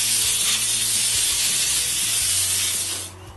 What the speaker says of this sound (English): Then I blow compressed air to remove the rest.